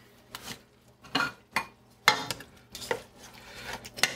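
A spoon stirring bean stew with bay leaf in a metal pot, giving a series of close scraping clinks and swishes in an irregular rhythm, about eight strokes.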